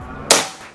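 One crisp, close shot from a Predator Bocap Tactical 500cc PCP air rifle snaps abruptly and decays over a fraction of a second in otherwise quiet surroundings.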